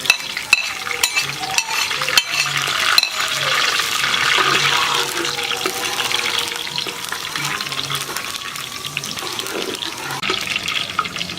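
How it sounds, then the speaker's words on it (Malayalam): Green chillies and curry leaves sizzle in hot coconut oil over a wood-fired village stove, a steady loud hiss and crackle with stirring scrapes, no talking. "അപ്പോൾ പച്ചമുളക് ഇട്ട് കൊടുക്കുക. ഇനി കറിവേപ്പില ഇട്ട് കൊടുക്കുക."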